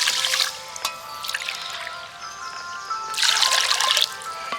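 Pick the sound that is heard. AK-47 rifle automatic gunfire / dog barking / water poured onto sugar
water poured onto sugar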